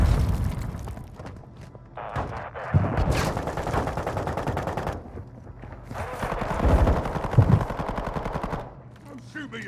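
Sustained automatic gunfire in Call of Duty Modern Warfare II, rapid bursts with heavy thuds and booms layered over one another, loud and close, with shouted game voices mixed in.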